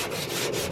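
Hand sanding of Bondo body filler on a car body panel with 180 grit sandpaper gives a steady, close, raspy scrubbing with soft rhythmic strokes, heard alone and without talk.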